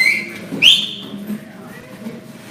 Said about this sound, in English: Thanks for the whistles.